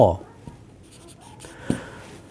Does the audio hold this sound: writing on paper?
yes